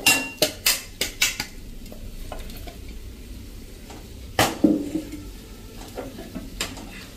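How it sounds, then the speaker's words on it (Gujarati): A spoon scrapes and clinks against a thick, heavy pot while dry spices are stirred over a low flame, with sharp metallic knocks early and again near the end over a faint sizzle. "હવે આને આપણે 1 મિનિટ આ રીતે હલાવતા કૂક કરી લેશું"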